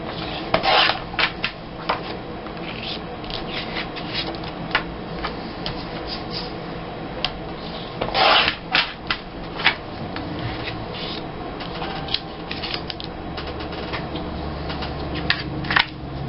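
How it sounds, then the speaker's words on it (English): Photos trimmed for a scrapbook layout with a paper trimmer, steady close rasping and scraping strokes with occasional louder slides and clicks, no voices. "Gotta trim my photos so they fit."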